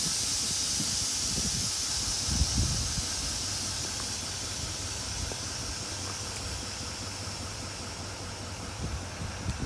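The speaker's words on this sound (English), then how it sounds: "Compressor kick on, make up the air." Steady hissing, whirring air compressor on a fat-tire GMC Denali dually truck's air suspension, running continuously at close range with a bright high-pitched squeal and a low rumble beneath, no talking.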